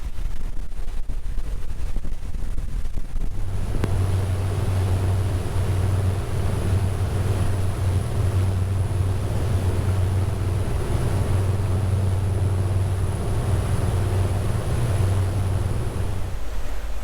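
A Fairline Phantom 65 motor yacht's engine drones steadily at full throttle during a sea trial, under heavy wind and rushing water noise, loud and constant throughout.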